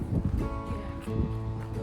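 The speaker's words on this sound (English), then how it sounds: "It's really windy out here." Low, blustery wind in Yellowstone's Lamar Valley rumbles and buffets the microphone in gusts for a couple of seconds.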